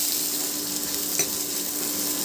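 Finely chopped onion fries in oil after garlic for a masoor dal, a soft, continuous close sizzle with one brief stir or scrape midway and no voices.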